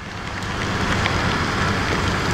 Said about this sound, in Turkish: Abi yağmur değil de dolu.